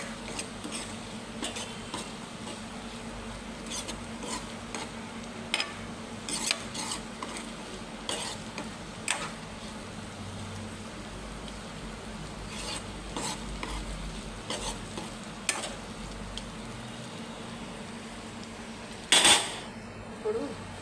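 Okra and egg fry with chili powder in a pan under a constant low sizzle, while a utensil stirs with scattered light clinks and scrapes and gives one sharper scrape near the end.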